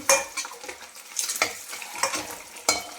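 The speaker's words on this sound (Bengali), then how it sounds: "আমার ডিমগুলো ভাজা হয়ে গেছে, এবারে কী করবো, আমি ডিমগুলো তুলে নেব" Fried eggs being lifted one by one from a hot frying pan, with oily sizzling and crackling and several scraping, clinking utensil strokes against the pan, close and clear with no talking.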